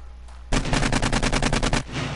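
AK rifle firing in the video game 7 Days to Die, a sudden sustained burst of about a dozen rapid, evenly spaced loud shots lasting over a second, then stopping abruptly.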